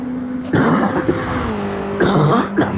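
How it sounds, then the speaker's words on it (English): Sim-racing commentary over a Darwin Racing Evolution RoadRampage Round 9 race, where a commentator coughs sharply a couple of times close to the mic above a steady engine drone. "a bit of a cough at the moment"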